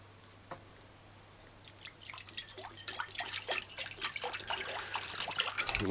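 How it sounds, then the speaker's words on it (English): Water is poured into a bowl while preparing a chicken pepper stir-fry, starting faint and building into a close, continuous splashing trickle. "So you saw me pour some water in a bowl"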